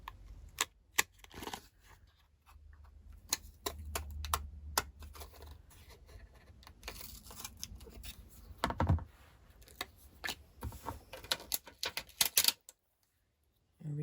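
Scissors snip through paper for a handmade Candy Kisses scrapbook album, a run of sharp, close clicks and crisp cuts in uneven bursts, with soft rustling of the sheets in between.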